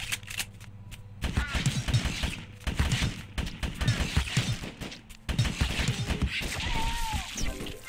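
Pistol shots in GRAV Reborn crack out in quick bursts through the stretch, sharp and loud, with brief pauses between volleys and a voice talking in places.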